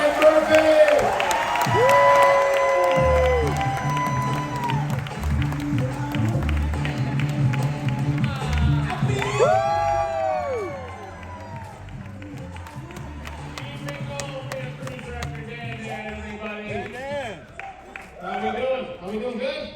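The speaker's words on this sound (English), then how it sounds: "please put your hands together. Make some noise." A cruise ship show audience aboard Mariner of the Seas claps and cheers loudly as an act is welcomed onto the stage, with whoops over a music backing and a host speaking through it, the crowd fading before rising briefly again.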